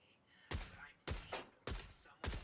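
Four sharp gunshot bursts from a PUBG-style shooter game, evenly spaced about half a second apart, each with a quick decaying tail over a quiet background.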